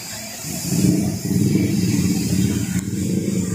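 A 2005 Chevrolet Blazer Samba XR with a loud open 'brong' exhaust idles with a rumble, then revs up and holds a raised, throaty engine note close by.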